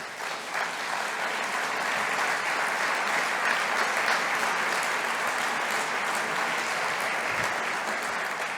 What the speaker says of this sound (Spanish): Pediría un aplauso para él.